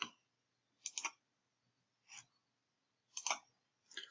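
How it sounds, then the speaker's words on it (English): A computer mouse clicks on links in a job-management timeline app: five crisp, isolated clicks, unevenly spaced and close, with near silence between them. "we can open the job by clicking on the link"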